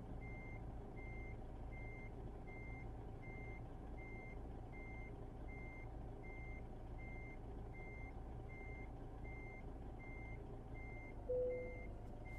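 A truck in American Truck Simulator reverses with evenly spaced electronic backup beeps that repeat steadily over a low engine drone, ending with a short hiss of air brakes.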